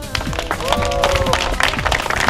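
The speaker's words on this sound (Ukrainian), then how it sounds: "За перше місце громче можна аплодувати" A crowd claps continuously for a first-place winner at an award ceremony, dense and lively, with scattered voices and cheering mixed into the applause.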